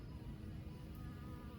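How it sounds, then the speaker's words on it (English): Honey bee buzzing close by near the hive during a honey harvest, a faint continuous drone with no talking. "Bee getting down in here"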